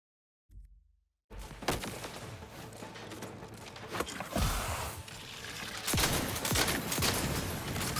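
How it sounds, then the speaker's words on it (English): Gunfire in the video game The Outer Worlds 2, loud rapid bursts of shots and impacts in a dense firefight after a brief quiet start. "The audio is a little bit loud on the shots and stuff."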